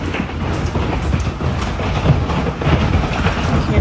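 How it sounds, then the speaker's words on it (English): Hail pounds a house during a severe storm as a dense, loud, continuous roar of heavy impacts. Rumbling low thuds run throughout, close and unbroken. "Y'all, this is hail. This is hail. Do y'all hear that?"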